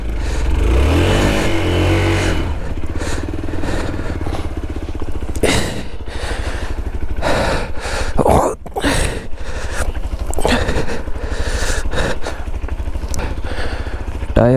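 A Hero XPulse motorcycle's engine revs hard and steadily with its tyre stuck in loose sand on a mountain trail. The loud close roar rises and falls, and brief shifts come through wind buffeting.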